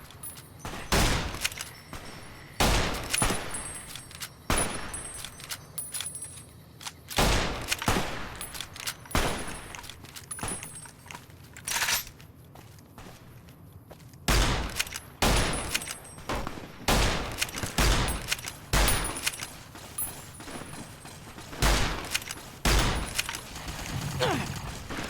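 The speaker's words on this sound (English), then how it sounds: "He doesn't even know I'm taking shots at him." Gunfire in the video game Fallout New Vegas, played in hardcore mode: sharp single shots and short bursts crack out irregularly across the whole stretch, loud and close, with some quieter distant reports between them.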